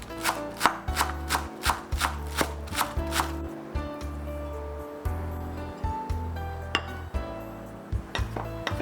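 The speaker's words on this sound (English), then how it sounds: "Chop green onion finely." A knife chops green onion finely on a cutting board for takoyaki: a quick, steady series of sharp wooden taps up close, pausing briefly and then resuming in a looser rhythm, with a faint musical background.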